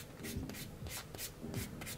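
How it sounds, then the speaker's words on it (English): A nail buffer rubbed back and forth over a short nude press-on nail with holo tips, a close, soft scratchy swish repeating in even strokes about every half second. "I'm just kind of buffing off that shiny surface."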